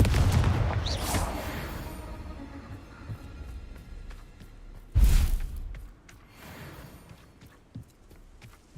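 Confringo explosive spells from Hogwarts Legacy go off in two heavy booming blasts, one at the start and another midway, each a sharp bang that rolls off into a fading rumble over quieter in-game ambience.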